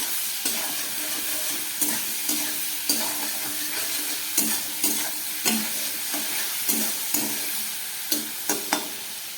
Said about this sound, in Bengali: নুন আর হলুদ দিয়ে আবার একটু ভেজে নিই।